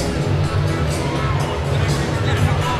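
A crowd at a combat sports event keeps up a loud, steady roar of cheering and babble, with voices blending into continuous noise.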